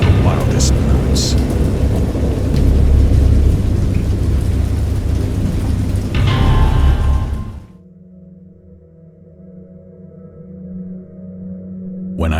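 A heavy thunderstorm pours rain with rolling thunder, loud and dense for about seven seconds, then drops away to a quieter, low tonal background.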